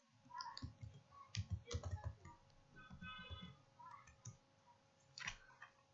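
Quiet clicking of a computer keyboard as text is typed, with a short burst of quick keystrokes and a few scattered taps close to the microphone.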